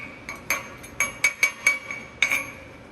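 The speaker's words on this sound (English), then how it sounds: "Let's take some of that slag off." Slag being chipped off a fresh weld made with a Warcking Mig200DV welding machine, a series of sharp metallic taps and clinks, about eight strikes at an uneven pace, close by and fairly quiet.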